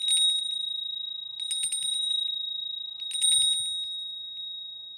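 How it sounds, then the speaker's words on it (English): A small bright bell is rung three times, each ring a quick shimmering burst that rings on and decays, with a steady high electronic tone running underneath throughout. "I'm gonna ring the bell for abundance. I ring it 3 times because I believe in the power of three."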